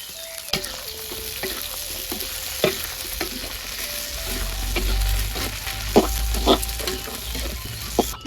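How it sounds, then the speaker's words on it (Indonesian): Chilies frying for sambal, a steady crackling sizzle with intermittent stirring clicks and scrapes against the pan, close and moderately loud. "Lombok sambal digoreng."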